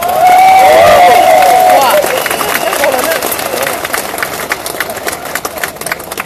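An outdoor political rally crowd in Melaka claps and cheers in a dense, loud roar that sits steady at first and then eases slightly. A thin whistle-like tone and some engine rumble cut through early on.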